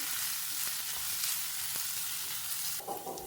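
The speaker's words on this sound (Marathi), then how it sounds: "ओके, सो बरें एका आमी फ्राय करून घेवया." Ginger garlic paste and chopped onion fry in a pan with a steady, close sizzle and crackle, a few soft stirring scrapes, and a louder hiss swelling near the end; no voices.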